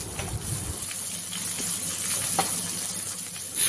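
Ingredients hit a hot pan and a steady hissing sizzle follows, loud and close, running continuously with slight swells.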